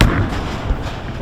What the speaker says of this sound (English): He's banging pins around the back to distract.